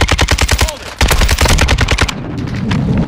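Video game gunfire in rapid automatic bursts, loud and close, with a short pause mid-way before another stream of shots, then a rougher rumbling tail of fire.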